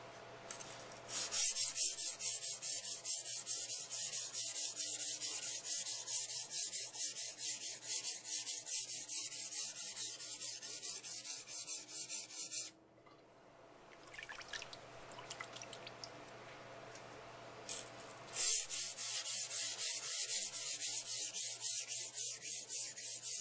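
A large blade bevel scrubbed back and forth on a new Nubatama whetstone, with a steady wet rasping rub, a short quieter pause in the middle, then the strokes resume, close and alone.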